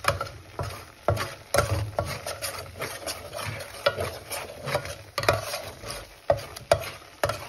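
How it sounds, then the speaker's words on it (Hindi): Wheat flour roasting in butter for atta halwa is stirred in a pan, with repeated close, rhythmic spoon scrapes and taps over a soft sizzle, with no voices. "डेढ़ चम्मच मैंने आटा डाला है। इसको अच्छे तरीके से भून कर"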